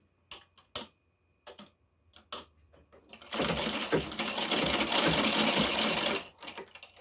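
A sewing machine stitches a fabric bag holder in a steady, loud run of roughly three seconds, preceded by a few short clicks and brief bursts of stitching, with no talk.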